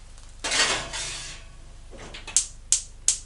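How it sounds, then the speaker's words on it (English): A metal baking tray holding a shop-bought steak and ale pie being handled and slid into an oven, a scraping rattle, then three sharp metallic clinks in quick succession, close and fairly quiet with no talk. "Let's get it in a baking tray,"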